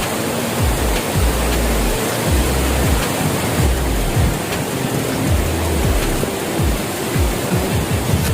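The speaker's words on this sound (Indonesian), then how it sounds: "Ketinggian air terjun Ciberem ini memiliki ketinggian sekitar 40 meter." Ciberem waterfall, about 40 meters high, roars in a dense, constant rush of falling water on a mountain trail, loud and unbroken for the whole stretch.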